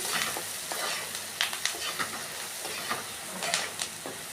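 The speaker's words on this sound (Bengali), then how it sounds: "এখন এইগুলিকে আগে ভালো করে ভেজে নিতে লাগবে" Onions frying in oil with Kashmiri chilli and cumin powder, hissing and sizzling close by while a utensil scrapes and stirs the pan in irregular strokes.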